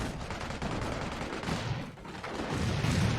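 Machine gun fire in a combat video game during a trench assault, a dense continuous rattle of gunfire with bursts swelling louder near the end, without speech.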